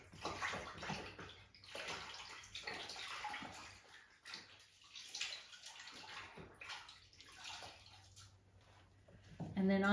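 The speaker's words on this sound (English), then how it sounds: "Now what I'm going to do is rinse it. So at home, just rinse it in the sink." Water splashes and sloshes as a fabric heart is rinsed in a sink to wash out the soap, a steady mid-level running and swishing sound with brief pauses.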